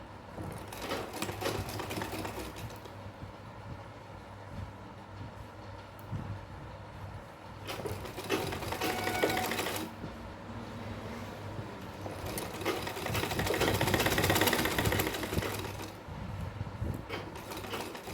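A sewing machine stitches piping along the edges of a doll dress for Laddu Gopal. It runs in several bursts of rapid whirring, with short pauses between runs, at close range and alone.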